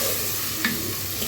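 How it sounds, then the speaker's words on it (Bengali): Lentils sautéing in a pan for bhuna khichuri, a steady low sizzle throughout with a single brief scrape of stirring midway, close and fairly quiet. "তো প্রথমে একটু কষিয়ে এটা রান্না করে নেব।"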